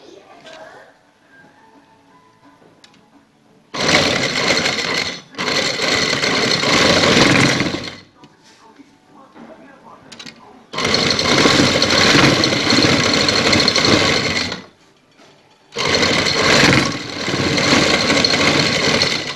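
A sewing machine stitches lace onto a trouser hem, running in four steady bursts of motor whirr of a few seconds each, separated by short quiet pauses.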